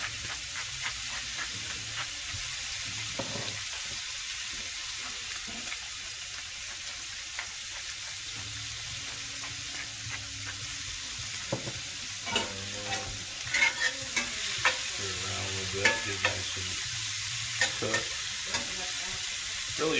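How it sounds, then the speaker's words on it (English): Shrimp seasoned with salt and pepper sizzle softly in a pan for Tuscan butter shrimp, while a utensil stirs and scrapes in irregular bursts, growing busier toward the end, with no talking. "We're gonna throw our shrimp in there."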